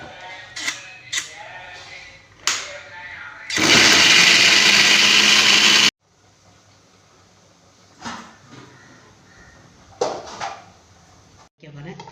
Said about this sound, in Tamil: அதுக்கும் தேங்காயும் சீரகமும் அரைக்கிறேன்